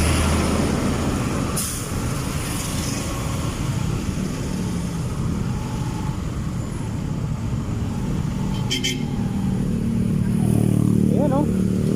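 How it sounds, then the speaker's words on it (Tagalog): Heavy traffic on the EDSA Ortigas flyover, with a bus and a steady stream of motorcycles and cars rumbling past close by, brief hissing bursts like air brakes, and a loud engine swell near the end. "Ayan na po yung bus."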